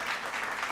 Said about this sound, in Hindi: तालियों की गड़गड़ाहट रुकनी नहीं चाहिए